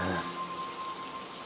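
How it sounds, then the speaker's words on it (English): Rain falls in the Hidden Forest of the video game Sky: Children of the Light, a soft, steady patter that holds evenly after a slightly louder start, with no voices. "Mom didn't tell me about the rain."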